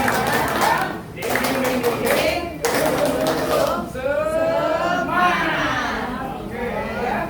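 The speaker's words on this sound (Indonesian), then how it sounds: "tepuk semangat." A group of teachers in a training session claps in a rhythmic spirit-clap chant, bursts of hand claps broken by pauses, mixed with chanting voices and chatter.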